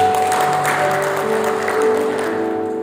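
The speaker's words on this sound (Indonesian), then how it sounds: "Tepuk tangan bagi Yesus." Applause from guests at a wedding celebration, a steady wash of clapping with a sustained musical tone underneath, fairly loud and continuous.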